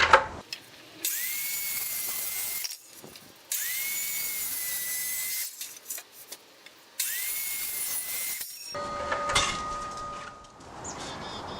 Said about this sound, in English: I'm just going to use the circ saw just to cut all these.